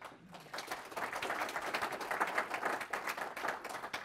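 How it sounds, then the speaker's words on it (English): Audience applause for a speaker at the Nagios World Conference 2013, a moderate, steady patter of clapping hands rising after a quiet start and continuing evenly throughout. "Please give a big round of applause for Andy Brist."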